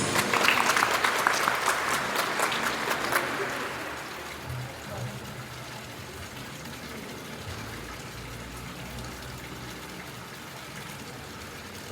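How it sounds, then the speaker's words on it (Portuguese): Applause rings out in a church after a baptism, loudest in the first few seconds and then thinning to a soft wash of room noise with faint voices. "Uma salva de palmas."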